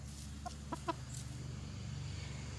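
Chickens in a garden coop give a few faint, short clucks over a steady low outdoor hum, then go quiet.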